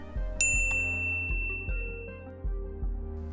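A bell chimes as a sound effect, with a bright ding near the start and soft rhythmic low pulses repeating underneath the whole time.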